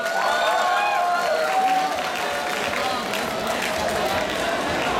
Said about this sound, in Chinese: 来，掌声谢谢他们。